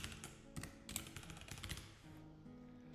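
Typing on a new computer keyboard, a run of close, clicky keystrokes in irregular bursts with short pauses, over a faint steady background hum.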